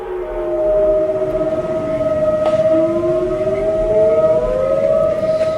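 A civil defense siren in Oregon wails steadily at night, its pitch slowly dipping and rising again, loud and sustained over a low background rumble.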